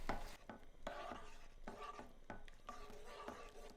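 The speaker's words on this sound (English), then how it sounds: "Stir it all together and heat through until just starting to boil" Cajun prawn sauce with Worcester sauce and creme fraiche being stirred in one pan, giving close, rhythmic scraping and swishing strokes with a faint sizzle beneath.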